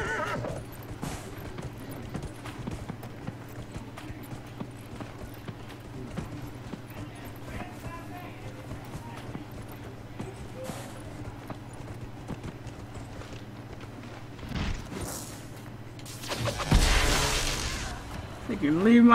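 Horse hooves clip-clop steadily through the scene in the video game Dragon Age Inquisition, and a loud neigh bursts out near the end over the game's background noise.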